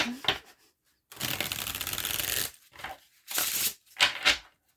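Tarot cards being shuffled in several loud riffling bursts, the longest lasting over a second, separated by brief pauses, close to the listener.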